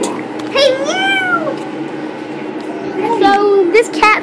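A kitten gives two distinct meows, close and loud, with a gap between them and brief voices talking nearby.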